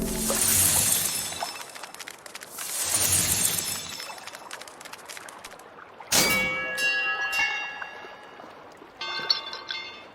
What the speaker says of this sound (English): Oh, is the bell broken?